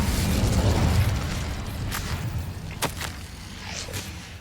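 A fire spell is cast in the Hogwarts Legacy video game, a burst of whooshing flame at the start that fades into a softer crackle, with a couple of sharp pops near the end and no talking.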